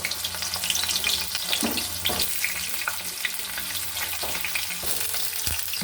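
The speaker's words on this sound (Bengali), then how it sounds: "এবার পেঁপেগুলো ভেজে নেব" Papaya pieces fry in hot oil alongside potatoes in a home kitchen, giving a steady, loud sizzle throughout with a few brief stirring clatters and no talking.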